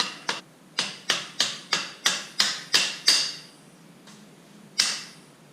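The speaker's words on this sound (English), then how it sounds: "Next, just grab a square, tap out the bolt." A bolt being tapped out of a Honda 50 motor, about nine sharp metallic taps in a steady rhythm, then a pause and one final tap, close and clear.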